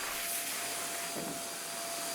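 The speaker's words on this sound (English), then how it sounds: "When I vacuum off the dust," A vacuum cleaner sucking sanding dust off a catamaran hull makes a steady, close, loud whooshing drone with a brief change in pitch partway through and no talk.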